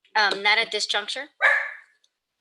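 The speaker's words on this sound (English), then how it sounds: "Sorry, that's my dog." A pet dog barks a few sharp times nearby in a home during a virtual press conference, the yaps overlapping a man's brief speech and followed by a short whine.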